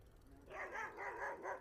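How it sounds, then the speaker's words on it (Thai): Dog barking at a distance outdoors near a large house, a quick series of four or five faint, evenly spaced barks over low background noise. "หมาเห่า"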